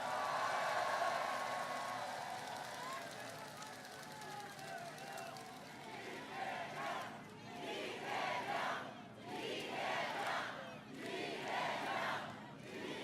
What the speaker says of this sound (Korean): 함께한 동지들을 위해서 박수 한번 부탁드립니다